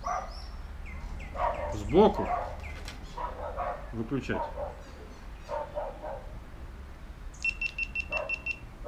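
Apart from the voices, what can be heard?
dogs barking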